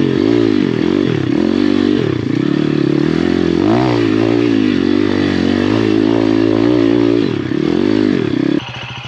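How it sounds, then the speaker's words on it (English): A 150cc pit bike climbs a steep single-track hill, its engine revving loud and close the whole time, wavering in pitch as the throttle works, with clattering and scraping from the trail underneath. "this bike loves to pop wheelies going up hills."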